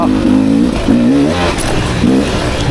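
A 2024 Beta 300RR Racing Edition dirt bike accelerates hard, its loud engine note climbing and dropping in pitch through quick gear changes, close and continuous.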